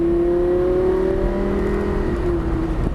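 An exotic sports car accelerates hard on the Motorsport Ranch race track, its engine note a loud, steady, slowly falling drone held for about three seconds with no talk over it.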